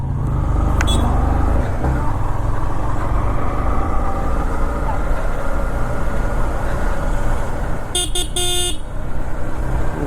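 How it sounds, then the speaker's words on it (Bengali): Motorcycle ride along a canal-side road toward New Town, captured on a GoPro Hero 10: steady engine drone and wind rumble throughout, with a brief car horn honking near the end. "দারুণ লাগে বাইকটা চালাতে"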